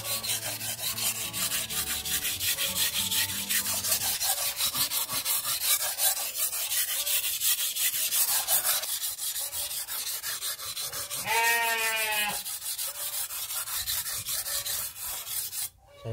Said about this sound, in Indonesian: Oke, lanjut ke pengasahan pertama.